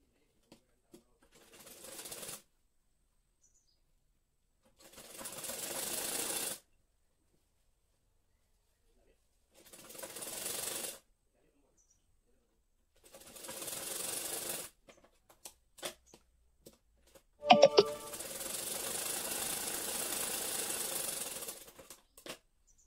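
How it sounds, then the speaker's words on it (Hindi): A sewing machine stitching a katori blouse in repeated bursts of steady whirring, each run lasting a second or two with pauses in between, ending in a longer continuous run after a few clicks. "अब डायरेक्ट सिलाई लगा लेंगे।"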